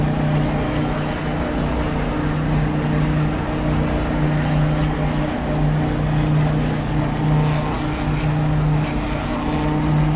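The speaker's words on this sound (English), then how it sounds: "I can barely hear you over the engine now that I'm driving" Race car engine in Assetto Corsa Competizione on an American circuit, a loud, continuous droning hum that holds steady throughout with wind-like rushing noise on top.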